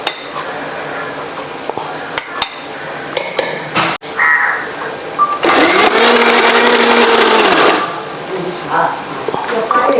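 A kitchen mixer grinder grinds grated coconut for a prawn dish, a loud, steady whirring burst of several seconds that starts abruptly and stops, with quieter kitchen clatter and faint crow calls before and after.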